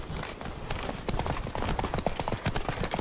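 Roach the horse from The Witcher galloping, a rapid, steady clip-clop of hooves that runs throughout, close and fairly loud, with no talk over it.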